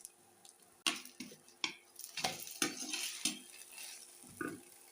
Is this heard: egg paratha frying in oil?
yes